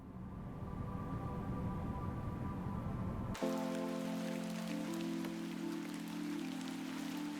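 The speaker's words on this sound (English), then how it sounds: "Now it's chucking it down with rain." Heavy rain pours steadily in the point-and-click game The Excavation of Hob's Barrow, a dense wash that swells suddenly partway through and keeps drumming alongside a low droning game tone, with no voices.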